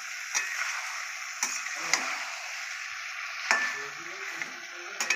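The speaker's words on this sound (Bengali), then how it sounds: "পেঁপে আর আলু দিয়ে দিয়েছে, কষিয়ে নিচ্ছে" Papaya and potato pieces fry with chicken in a pan, a steady close sizzle broken by a few sharp clinks and scrapes of stirring, with no voices.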